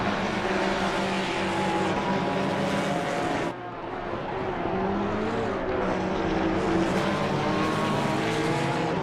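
Race cars, a Ginetta and a McLaren, roar through a sim racing game at Kyalami at night, engines loud and continuous with rising and falling pitch as they pass and shift, a brief dip in the middle before revving back up.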